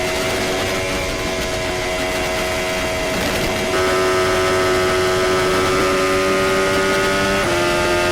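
A racing car's engine holds a loud, steady, whining drone at full throttle. Its pitch jumps abruptly at two gear shifts, with no voices.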